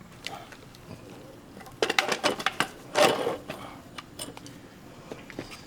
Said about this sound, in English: it's called a brake caliper windback tool and piston compression.